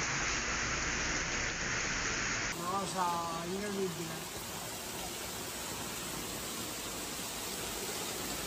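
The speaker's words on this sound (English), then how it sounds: "drenched the capital in torrential rain and battered with a violent wind and hail" Torrential rain from a violent storm in Rome pours as a dense, steady hiss, briefly cut off and resuming, with a short voice-like tonal sound partway through.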